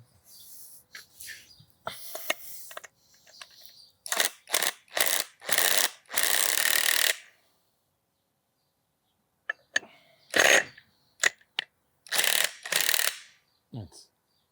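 A ratchet wrench tightens bolts on a scooter's rear CVT variator, heard as several quick bursts of close, dry clicking separated by short pauses, with isolated clicks in between.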